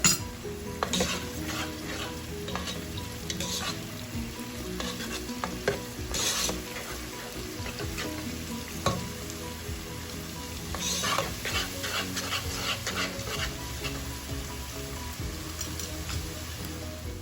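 Steady sizzling of onions frying in a pan, with occasional stirring scrapes and clinks of a utensil against the pan, no talking.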